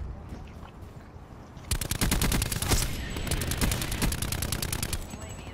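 Rapid automatic gunfire from the Black Ops 4 video game in team deathmatch on PS4, quieter at first, then dense, sustained bursts of loud rattling shots for several seconds.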